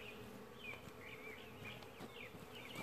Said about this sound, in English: This is the same bee that is up in the box that we just checked.